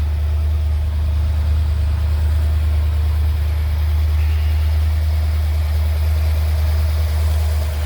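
A 1968 Chevrolet Corvette's 427 V8 engine idles steadily throughout, with a deep, even low rumble and a slight mechanical hum, close and loud, with no talking.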